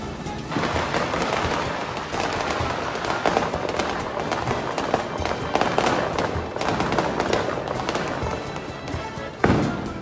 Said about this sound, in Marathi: पावसात फटाके पण फोडतात. जाणार आहे फटाके हा फोडायला.